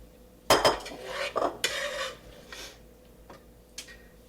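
Cooked onions are scraped and moved from a metal pan into a side bowl, giving several sharp clinks and scraping strokes of a utensil against the cookware, close and fairly loud, then quieter taps.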